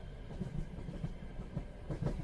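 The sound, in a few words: train passenger car rolling on rails, from a video game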